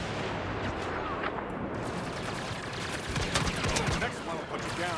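A grenade blast in Star Wars Battlefront booms amid dense, continuous game combat noise, with rumbling and crackling gunfire-like bursts throughout and a player's voice talking over it.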